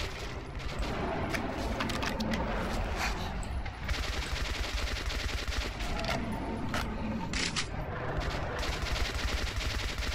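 Sustained gunfire in Metro 2033, shot after shot of automatic weapons mixed with occasional heavier blasts, continuous over ten seconds at moderate level with faint voices in the background.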